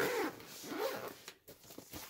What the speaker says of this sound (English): you can see that this really zips up well